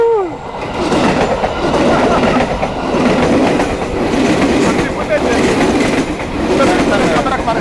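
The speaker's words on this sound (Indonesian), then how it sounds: "tiba-tiba kita lagi ngobrol ada kereta" A passenger or freight train rumbles past close by with loud, continuous clattering of wheels on rails, filling the whole stretch with dense noise.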